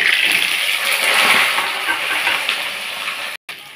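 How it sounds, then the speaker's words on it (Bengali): Potatoes tipped into hot oil set off a loud, steady bubbling hiss that spreads across the whole clip, cutting out for a brief moment near the end. "তেলটা আমার গরম হয়ে গেছে, আমি এর মধ্যে এবার আলুগুলো সব ছেড়ে দেবো।"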